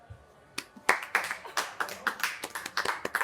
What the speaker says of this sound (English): Nice golf clap.